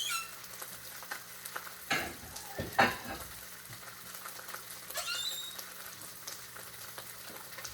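Ham sizzles quietly in a pan, a soft steady fry broken by a few clattering stirs and scrapes of a utensil against the metal.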